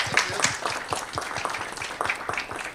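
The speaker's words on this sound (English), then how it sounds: "let's give a round of applause." A small audience at a tech demo night gives a brief round of applause, scattered individual claps that are fairly close and uneven rather than a dense roar.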